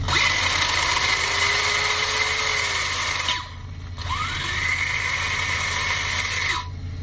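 A HyperGo H14BM RC car's electric motor runs at full throttle, a steady high-pitched whine with a rising pitch sweep, dropping out briefly mid-clip before spinning back up and cutting off near the end.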